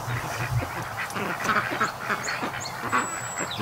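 Ducks quack repeatedly in an outdoor pen among chickens on a small farm where tall grass was recently cut, heard at moderate distance over steady background noise with no clear talk.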